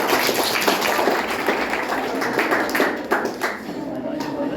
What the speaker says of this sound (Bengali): হাততালি দিয়ে সবাই মিলে বসে।